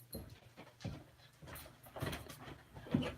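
A sick pet dog whimpers and pants indoors, with short breathy pants and faint whines repeating irregularly, quiet and close.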